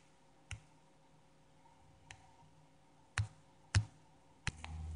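Computer mouse clicks, five sharp isolated taps spaced irregularly in a quiet room, close and crisp.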